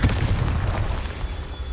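A Confringo spell in Hogwarts Legacy bursts into a heavy, rumbling boom that hits at once and fades over about a second and a half, loud and close.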